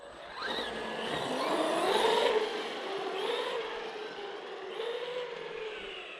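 A Traxxas Hoss RC truck running on a 2S 5000mAh battery whirs with an electric motor whine that rises and falls as the throttle changes, moderately close, with no talk.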